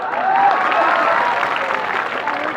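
An audience at a live Hindi comedy and poetry show breaks into steady applause, a dense, loud wash of clapping from a crowd that holds level throughout.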